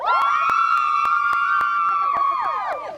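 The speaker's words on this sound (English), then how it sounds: "Even these ladies were out here this weekend to cheer the runners on" A group of women cheering on marathon runners, a loud sustained high-pitched whoop held for about three seconds before trailing off.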